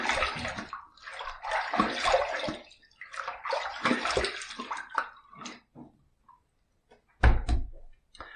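A safety razor being rinsed under a running tap, bursts of splashing water and clinking in several uneven spells with short pauses, close and moderately loud, with no talking.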